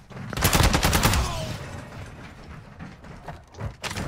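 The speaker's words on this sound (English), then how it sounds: "That was me shooting." A rapid burst of automatic gunfire rattles in Call of Duty DMZ, loud and close, and then fades into quieter game ambience with a few later thuds.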